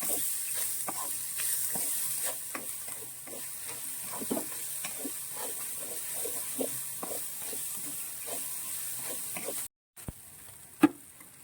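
Grated coconut being stir-fried in a pan for a jackfruit thoran, steady sizzling under repeated scraping stirs, close and continuous with a brief gap near the end.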